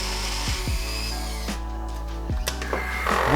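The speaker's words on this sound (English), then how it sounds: "I put it in my flex shaft and I start cutting out the seats." A flex shaft spinning a carbide round burr to cut stone seats in silver: a steady high-pitched whine with several brief dips and surges as the burr bites into the metal, close and continuous.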